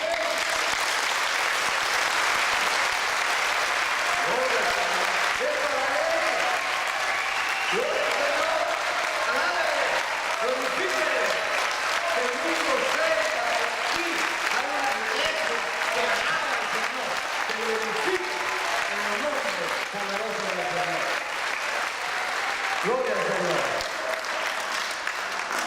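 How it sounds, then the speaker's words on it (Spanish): Sustained applause from a church congregation during a Sunday service, steady and loud for the whole stretch, with voices shouting and talking over the clapping. "démosle un aplauso al Señor"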